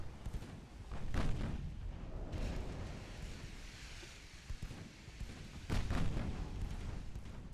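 Naval gunfire in the warship game Ultimate Admiral: Dreadnoughts, deep booming salvos firing in irregular bursts, heavy low thuds with rumbling tails, a few sharp reports standing out, no voices.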